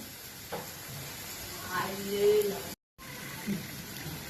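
Palm cake pitha, made with coconut and semolina, fries in hot oil with a soft, steady sizzle. The bubbling swells briefly in the middle, then cuts out for a moment before it resumes.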